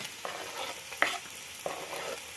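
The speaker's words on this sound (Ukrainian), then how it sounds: "натираємо морку разом з салом додаємо в сковородку, щоб прогрілося" Grated carrot, lard and onion fry in a pan with a steady, close sizzle, broken by a few soft stirring scrapes.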